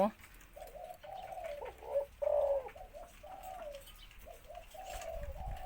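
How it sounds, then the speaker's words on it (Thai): A male spotted dove coos in a steady series of soft, low, rounded phrases, fairly close and clear over a quiet background. "เดี๋ยวหนิงจะให้ชมเสียงขันโยนของเขา"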